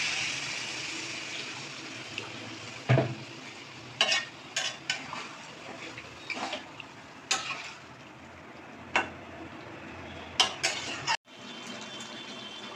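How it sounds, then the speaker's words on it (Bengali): Jackfruit curry sizzles steadily in a pan as a little water goes in, with a broad hiss broken by sharp spoon clicks and scrapes, and a brief cut in the sound near the end. "অল্প জল দিয়ে দিচ্ছি।"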